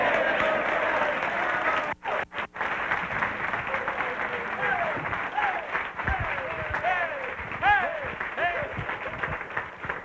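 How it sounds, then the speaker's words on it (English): Seminar audience bursts into loud applause with clapping and excited cheering and whoops on cue, a thick crowd roar with a brief dip early on, then sustained clapping and shouts. "bring your hands together and applaud loudly"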